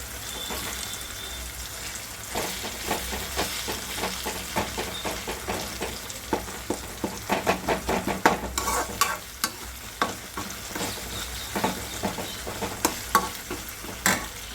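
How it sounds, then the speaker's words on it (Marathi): Mixed vegetables for a spicy Sangli-style bhogi bhaji roast in a pan, with a steady sizzle broken by repeated clicks and scrapes of stirring that grow busier and louder toward the end, no voices. "मस्त आहे की हे भाजून होत आहे"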